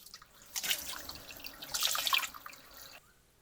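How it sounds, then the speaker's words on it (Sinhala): Water runs and splashes into a container being filled for soaking areca nuts, a soft trickling stream that swells, fades briefly, then rises again before tapering off, fairly quiet and close. "මේ විදිහට වතුර පුරව ගන්න."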